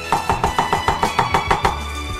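Ginger being minced with a knife on a cutting board, a steady run of about nine sharp, even chops close by, each a crisp knock, with no voices.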